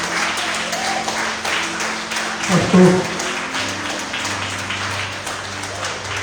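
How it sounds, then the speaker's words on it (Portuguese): Church congregation applauding the Lord after a healing testimony, a moderate wash of clapping from the crowd with a voice speaking briefly over it. "Aplauda ao Senhor Jesus"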